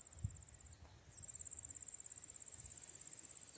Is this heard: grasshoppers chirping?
yes